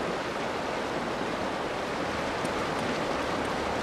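A steady, broadband rush of falling water from a large jungle waterfall in the video game Uncharted, loud and continuous, close by, with no voices.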